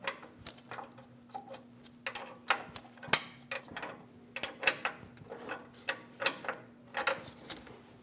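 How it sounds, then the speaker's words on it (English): A ratchet snugging down a brake line bracket bolt on a 2011-2018 Ram 1500, faint rapid clicking in uneven bursts over a low steady hum. "Snug down the bracket bolt."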